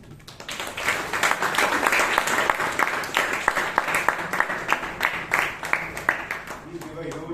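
An audience at a Toastmasters meeting in Bangalore applauds a speaker, a sustained round of many hands clapping at a steady, busy rhythm that fades slightly toward the end.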